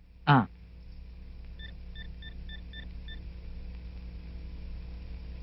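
A quick series of short electronic beeps from a phone call ringing, about six evenly spaced tones, faint beneath a low hum, after a brief loud knock at the start.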